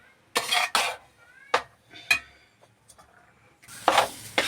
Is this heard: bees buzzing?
no